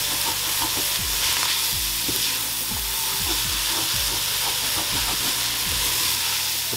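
Rice frying in a pot while being stirred, a loud continuous hiss and sizzle with regular scraping strokes recurring roughly every half second, close up.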